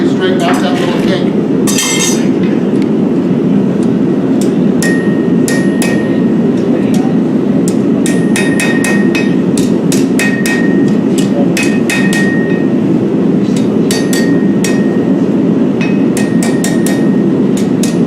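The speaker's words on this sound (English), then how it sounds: "You can take the hammer and quickly straighten out that little kink." Steel hammer striking forged metal on an anvil to straighten a small kink, a loud series of sharp ringing blows over steady workshop roar, with some talk.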